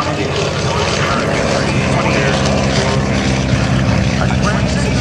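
A gray propeller trainer aircraft with a 1,425-horsepower engine at a Blue Angels homecoming airshow. The piston engine and propeller give a loud, continuous droning roar, close and steady, while a voice commentates over it.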